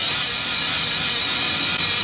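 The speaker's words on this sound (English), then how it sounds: "Got the Milwaukee Dremel tool with a little sideways flapper disc on it." A Milwaukee rotary tool fitted with a small sideways flap disc grinds metal in an auto repair shop, giving a steady, loud high-pitched abrasive whine that runs without a break, close by and with no talk over it.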